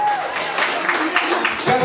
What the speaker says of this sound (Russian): Давайте поддержим аплодисменты.